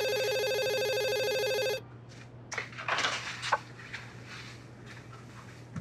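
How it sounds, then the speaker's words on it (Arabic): A telephone rings with a steady electronic trill for nearly two seconds and then stops abruptly. Quiet rustling, clicks and handling sounds follow over a low constant hum. "التليفون ده جه في الوقت المناسب"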